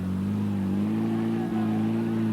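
Vintage MG M-Type car's engine being revved hard on a muddy trial hill, a loud close mid-pitched drone that holds steady, dips briefly, then surges again.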